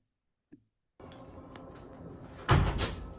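A school's front entrance door opens into the lobby. After a brief silence, room tone rises, then a loud, near thump and rattle of the door comes late, with no talking.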